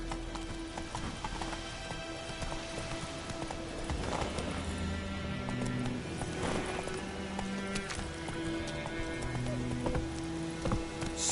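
Roach the horse galloping in The Witcher 3, a steady rapid clip-clop of hooves over continuous ambient noise, with a brief whinny and snorting breaths mixed in.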